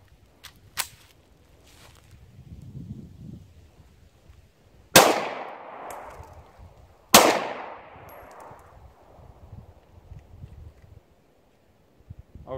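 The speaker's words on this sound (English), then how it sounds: "I'm gonna fire the last 3 in the traditional one-handed stance" German P08 Luger pistol firing, two sharp, loud reports about two seconds apart, each with a ringing decay, plus a faint earlier crack; no talk.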